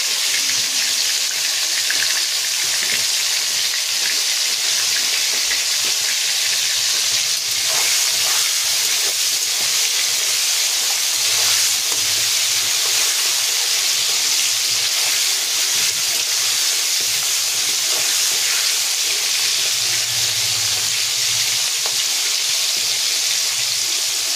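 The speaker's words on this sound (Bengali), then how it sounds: "মুসুরের ডাল আর আম সেদ্ধ হচ্ছে" Constant steamy hiss and soft bubbling of a pot of red lentils and mango boiling, steady and unbroken throughout with no talking.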